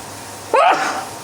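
A single sharp sneeze, close and loud, over a quiet room background.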